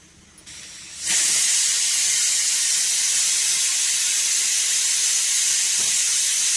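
After a brief quiet moment, a loud, steady hiss of steam from a pressure cooker whistle on a nearby stove begins abruptly and continues unbroken, close by and without voices.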